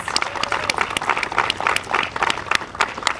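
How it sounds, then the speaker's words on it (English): Outdoor groundbreaking ceremony crowd giving a round of applause, scattered distinct claps mixing into a moderate, steady patter that carries on through the moment. "So let's give them a big round of applause"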